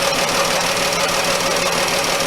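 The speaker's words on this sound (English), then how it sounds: "We got cylinder number 5's misfiring." A 2011 Dodge Journey engine running rough with cylinder 5 misfiring from a faulty coil, a loud close steady mechanical hum and whir with no clear break.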